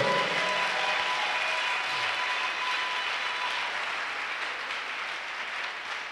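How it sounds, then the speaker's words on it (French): A church congregation at a Sunday service claps loudly and continuously, a dense wash of many hands that fades slightly toward the end. "give the Lord a big clap"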